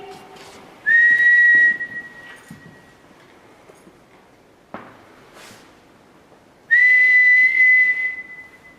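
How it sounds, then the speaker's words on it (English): A whistle sounds twice inside HMP Shrewsbury, each a steady, clear tone held for about a second, separated by a faint sharp knock amid quiet background hiss. "Did we all hear that whistle?"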